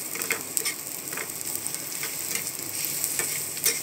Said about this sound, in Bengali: দিয়ে আমি সবগুলোকে খুব ভালো করে ভেজে নেব